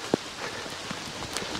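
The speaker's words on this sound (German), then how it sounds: "Der Regen wird wieder stärker." Rain falls steadily outdoors at an abandoned building site, a continuous broad hiss with a few scattered drip and tap sounds, no voices.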